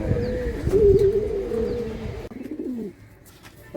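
Racing pigeons cooing close by, low throaty murmuring calls running through the first part, then softer and quieter toward the end.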